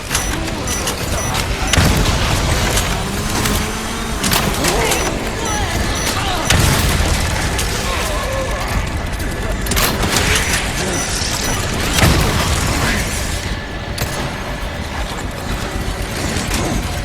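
Adjustable mines going off in Resident Evil 4 (2023), heavy booms and crashes breaking through a dense, loud game mix of gunfire and clatter, with someone talking over it.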